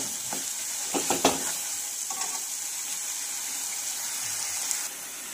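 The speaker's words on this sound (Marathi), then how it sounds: "तर यावर आपण आता मसाला घालूया। तर मसाला आपल्याला छान असा फ्राय करून घ्यायचा आहे।" Ground spice masala frying in well-heated oil for a special egg curry, a steady bright sizzle throughout with a few louder scraping stirs early on, close and alone with no talking.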